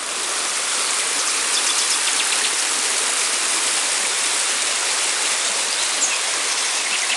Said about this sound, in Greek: Και το ποτάμι συνεχίζει να κυλάει προς το προορισμό.